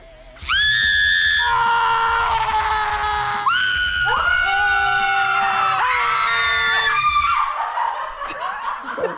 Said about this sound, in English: Scream as loud as you can.